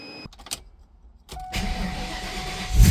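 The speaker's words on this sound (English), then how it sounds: "Now, I'm gonna warm up the engine" Ford Mustang Saleen being diagnosed for overheating: a few clicks and a whirring crank, then the engine catches and runs with a steady low rumble that grows louder near the end.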